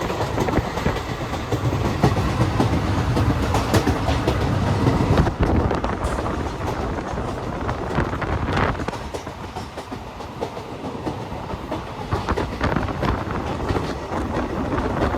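Passenger train travelling from Srinagar to Banihal, heard from inside as a steady rumble of wheels on rails with faint clickety-clack and wind noise, continuous and fairly loud throughout.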